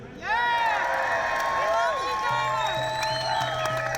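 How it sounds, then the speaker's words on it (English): A live crowd cheers and whoops for a whistle-blower named David, a loud burst of mixed voices and shouts that swells suddenly and holds steadily, with some applause beneath. "give him a bit of a cheer for David"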